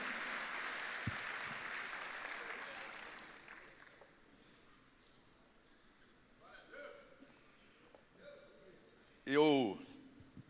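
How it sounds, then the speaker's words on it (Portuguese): Church congregation applauding at a conference gathering, a crowd clapping that fades out over the first few seconds, followed by quiet room sounds and a short burst of voice near the end. "vamos aplaudir a Deus pela vida de vocês"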